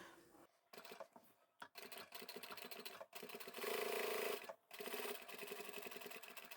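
Sewing machine stitching a vinyl bag pocket with a back stitch at the top edge, running in short bursts with pauses, faint and close, no talking.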